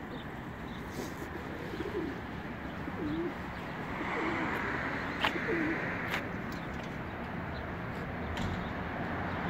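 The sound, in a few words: pigeons cooing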